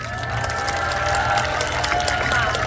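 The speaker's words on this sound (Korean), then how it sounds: "여러분 정말 환영의 박수 부탁드립니다." Welcoming applause and cheering from a crowd at a Korean campaign rally for party leader Cho Won-jin, greeting his wife onto the stage; a steady, dense wash of clapping and cheers fills the whole clip with a few voices mixed in.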